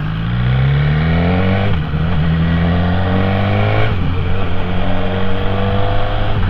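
Toyota Yaris driving, its engine loud and close with rising pitch sweeps as it accelerates through gears, steady road roar throughout and no voices.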